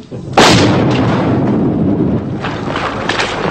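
Artillery fire in the Bosnian war: a single loud, close cannon blast with a booming rumble that rolls on and slowly decays amid wind-buffeted outdoor noise.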